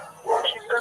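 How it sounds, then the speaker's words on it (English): A dog gives two quick yipping barks, close and fairly loud, within a short moment. "Just make sure that dog don't come out."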